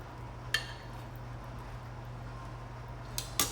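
Utensil cutting a baked zucchini boat on a plate, two or three quiet, sharp clinks against the plate separated by soft squishy stretches, with a steady low hum in the background.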